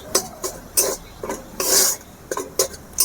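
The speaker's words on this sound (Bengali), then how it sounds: "হালকা জালে এভাবে মশলার সাথে ডাল মিশিয়ে নিতে হবে ভালো করে।" A spoon scrapes and clatters against a pan as lentils are mixed with spices over low heat, in a series of short, distinct strokes with one longer scrape in the middle, close and clear.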